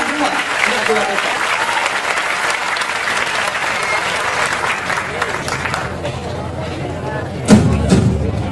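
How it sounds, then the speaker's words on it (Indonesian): Audience applause fills a cultural dialogue event at the Taman Siswa pendopo in Yogyakarta with Cak Nun and Kyai Kanjeng, steady dense clapping that thins toward the end, with a sharp thump near the close. "Tepuk tangan semua untuk Jiwa Tejo."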